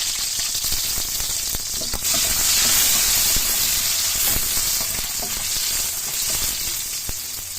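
Garlic and onion sauté in a hot pan for chicken tinola, a steady loud sizzle and frying hiss with occasional stirring scrapes and crackles, no voices.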